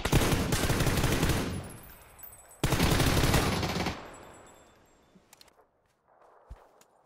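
Bursts of automatic gunfire in PUBG on PC: two long, loud sustained volleys of rapid shots, the second after a brief gap, then fading into sparse faint footsteps and small clicks.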